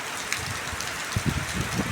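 Heavy rain driven by strong wind falls in a late-rainy-season storm, a dense, steady hiss with gusty low rumbles and scattered drop impacts.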